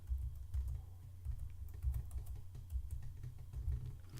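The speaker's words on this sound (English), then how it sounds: "I'm going to press enter, enter my password" A password is typed on a computer keyboard in quick, soft, close clicks with a steady uneven rhythm, alone in a quiet room.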